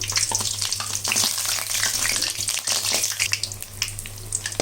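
Mysore bonda fries in hot oil with a steady, dense sizzle and crackle, while occasional scraping and stirring sounds come through as the fritters are turned.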